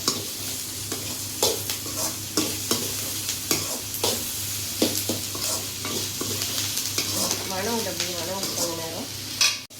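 Onions sautéing in a pan for an okra curry, a steady sizzle with repeated stirring scrapes and clatters throughout, close and fairly loud, with no talking.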